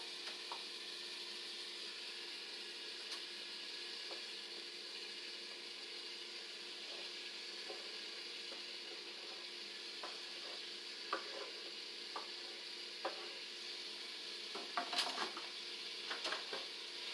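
Onions fry in a pan with a soft, steady sizzle and hiss. Faint scattered ticks and clicks come through over about seventeen seconds, with no voices.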